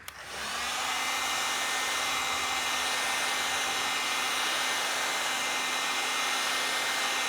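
A heat gun blows steadily on the decals of a Cub Cadet 882 garden tractor, starting with a click and then holding one even, loud airy roar with a constant hum beneath it for the whole stretch, no voices.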